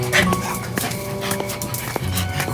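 A dog in an animated Halloween story yips and whimpers in a few short bursts, close and fairly loud, against a steady background with tonal sounds.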